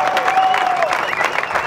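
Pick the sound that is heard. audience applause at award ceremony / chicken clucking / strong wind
audience applause at award ceremony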